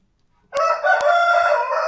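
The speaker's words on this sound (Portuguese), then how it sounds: "O galo tá cantando aqui" A rooster crows on a home veranda, one long, loud, close cock-a-doodle-doo that starts abruptly and holds steady to the end, with no talk over it.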